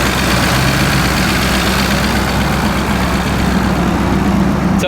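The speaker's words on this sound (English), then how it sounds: "It's actually an 8-cylinder 1UZ from Toyota with a pretty big turbo." A turbocharged Toyota 1UZ V8 in a 1997 Lexus SC400 idles with a steady, deep, rumbling drone at close range, loud and continuous without revving.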